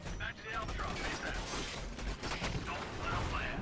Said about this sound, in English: then go, alright, fire the assault rifle